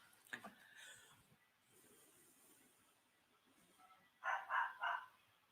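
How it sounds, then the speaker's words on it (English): A small dog barks in the background of an RV, faint and distant, with a few sharp yaps near the start and a quick burst of three louder barks toward the end, separated by quiet room sound. "Y'all hear little Nakota barking in the background."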